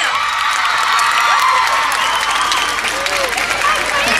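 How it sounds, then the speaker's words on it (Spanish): A large crowd of children and adults at an outdoor show applauds and cheers loudly and continuously, with whoops and shouts over steady clapping. "ahora quiero pedir fuerte el aplauso para un gran amigo mío"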